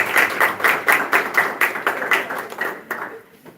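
A small audience claps steadily at a high school National Honor Society induction ceremony, with distinct, close handclaps in a brisk rhythm that thins out and fades toward the end.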